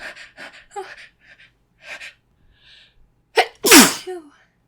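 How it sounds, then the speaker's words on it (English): A single loud, close sneeze bursts out alone after a string of soft breathy vocal sounds and short exclamations, followed by a brief gasp. "I feel a sneeze. A sneeze coming."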